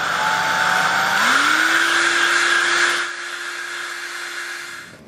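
Hairdryer drying freshly airbrushed paint on an HO scale model car, a loud steady blowing roar with a whine that rises in pitch after a second, then drops in level partway through, with no talk.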